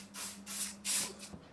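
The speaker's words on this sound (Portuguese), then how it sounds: "Eu gosto de vir também com esse spray aqui." Hair spray is misted from a can held well away, three short close hissing bursts separated by brief pauses, with a soft low hum underneath.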